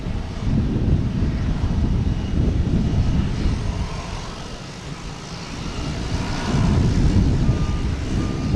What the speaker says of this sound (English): Japan Airlines is rolling.